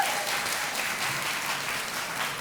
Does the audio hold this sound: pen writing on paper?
no